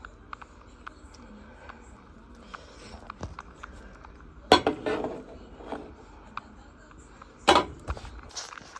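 A spoon stirs blackberry jalapeño sauce in a pot on a quiet stovetop, with a few soft scrapes and two sharp metallic clinks against the pot's side.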